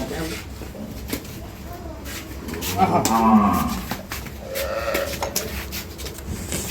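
A dairy cow mooing on a farm, one long low moo rising in the middle with a shorter call after, heard alongside people talking nearby.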